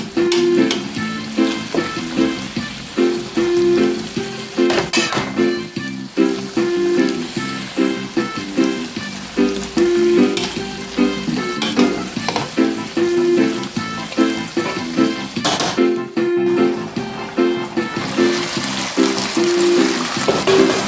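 Chicken chop suey with Chinese vegetables stir-frying in a pan, giving a loud, steady sizzle with repeated scraping and tossing strokes throughout, and no talking.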